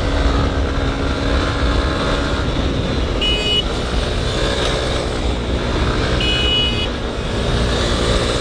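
A Honda Hornet 2.0 motorcycle engine running loud and steady while riding, a sustained close drone mixed with wind rush and no clear spoken voice.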